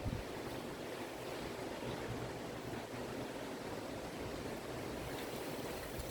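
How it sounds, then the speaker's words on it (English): Wind blows outdoors as a steady, broad rushing roar that buffets the microphone, continuous and fairly loud throughout with no distinct events. "The wind is blowing out right now."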